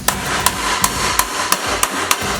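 A hammer strikes sheet metal in steady, evenly spaced blows, about seven sharp ringing taps, during tin-bashing panel work on a Ford RS200 build, over a constant workshop background hum.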